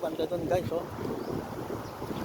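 Strong wind gusting outdoors in a city during a storm, rushing and buffeting the microphone throughout, with a person speaking over it.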